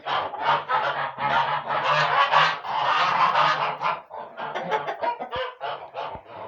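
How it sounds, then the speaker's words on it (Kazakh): Domestic geese honk loudly and insistently near a farmyard poultry shed, overlapping calls with chickens clucking among them, continuous raucous chorus without speech. "Қаздарым видео түсіруге кедергі келтіріп жатыр."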